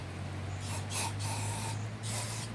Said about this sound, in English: And you also want to spray in the little hoses where the hoses were in the nozzles in there.